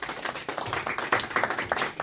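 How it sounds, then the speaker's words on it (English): Small meeting audience clapping, a sparse, uneven patter of individual hand claps close by, a modest round rather than a loud ovation. "A round of applause, please."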